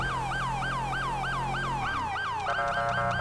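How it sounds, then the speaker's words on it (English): A police car siren in GTA 5 wails in a rapid repeating yelp, loud and steady, then switches to a different, choppier siren pattern near the end, with a low engine hum beneath. "So I see that this is one of you guys' favorite siren."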